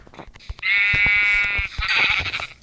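A sheep bleats in Minecraft, one sustained, wavering bleat that stands out clearly, surrounded by light clicking game sounds.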